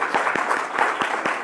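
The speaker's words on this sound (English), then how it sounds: "Can we give him a big round of applause" A workshop audience applauds a speaker, with distinct claps in a loose rhythm over a brief, steady stretch.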